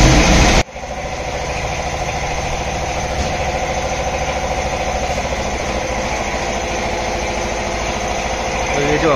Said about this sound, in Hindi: जो आवाज़ है ना इसकी प्रेशर वाले मोटर की, बहुत ही इरिटेटिंग है।